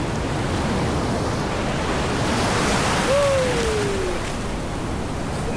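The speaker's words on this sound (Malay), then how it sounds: "Inilah ombak." Ocean surf at a campsite beach roars in a constant broad wash, with a brief thin whistle-like tone sliding downward near the middle; no talking.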